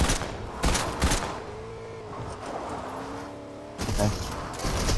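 Gunfire in the Fortnite video game comes as bursts of rapid shots at the start and again near the end, fairly loud over a continuous rumbling game background.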